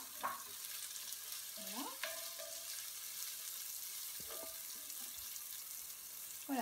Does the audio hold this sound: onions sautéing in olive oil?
yes